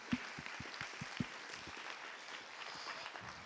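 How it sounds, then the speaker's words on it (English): Faint, distant applause from a conference audience, with scattered individual claps standing out at first before blending into a soft, steady patter of hands. "I want you to give a massive round of applause for everybody involved in this event today"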